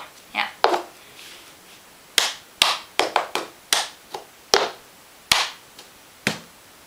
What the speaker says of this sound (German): ihr macht klatsch, Becher hoch, hier vorhauen und runter